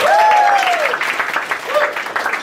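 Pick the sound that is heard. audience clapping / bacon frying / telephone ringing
audience clapping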